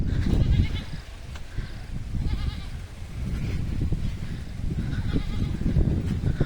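A large flock of sheep with many lambs bleats on a farm, overlapping calls rising and falling continuously at close range.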